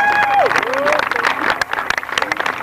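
Crowd applause for a driver at a slalom car race, a short burst of clapping with a voice speaking over it and a rising and falling tone in the background.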